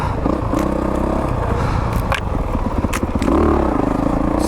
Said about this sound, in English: Just let this bike roll. Let her roll. Point her downhill.